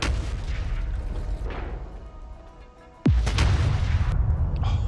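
Artillery guns fire in the video game Factorio, with one sharp, loud boom landing midway and a rumbling tail after it, following a quieter stretch of background game sound.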